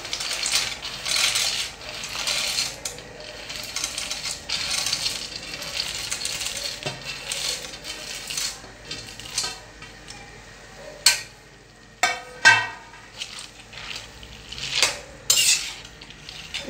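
Peanuts tossed into melting jaggery for peanut chikki are stirred in a pan, with a rattling, clattering mix of nut scraping and metal spoon knocks that grows sharper and more irregular toward the end; no talking.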